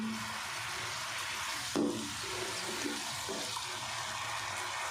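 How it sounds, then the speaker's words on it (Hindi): Finely chopped onions drop into a hot pan of sautéed garlic for a gourd curry. A sudden burst of sizzle marks the moment they go in, then a continuous frying hiss carries on close by. "और अब इसमें हम डाल देंगे ये प्याज बारीक कटे हुए।"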